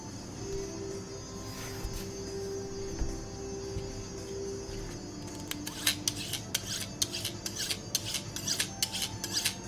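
Scissor blades are drawn through an Ultranox sharpener, with a quiet stretch at first and then a run of quick, crisp scraping strokes, close by and fairly faint.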